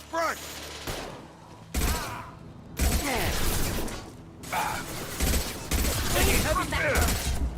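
Gunfire in the video game Mass Effect 2: repeated loud bursts of shots and booms in a busy combat scene, with shouted voices and game dialogue running over the firing.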